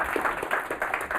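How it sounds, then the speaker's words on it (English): A meetup audience gives a short, fairly faint burst of clapping. "Everyone give Ezekiel another round of applause."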